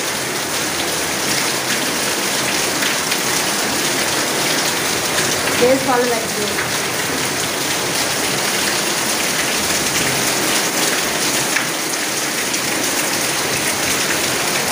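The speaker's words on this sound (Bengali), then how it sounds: "অনেক জোর বৃষ্টি হচ্ছে, প্রচুর জোর বৃষ্টি হচ্ছে" Steady rain pours down through the whole stretch, a dense even hiss of heavy downpour in hot weather, with a brief soft voice speaking once.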